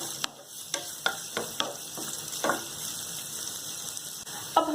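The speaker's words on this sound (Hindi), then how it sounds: "जब हमारी तेल अच्छी तरह से गर्म हो जाए देन हम इसमें डालेंगे चॉप किए हुए अनियन यानी कि प्याज" Chopped onions frying in hot vegetable oil in a pan, a steady bright sizzle punctuated by repeated sharp stirring scrapes and clicks, close up with no talking.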